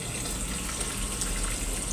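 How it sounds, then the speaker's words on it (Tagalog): Steady rushing water runs without a break, poured into a cooking pot. "Ayan, nilagyan ko na ng tubig."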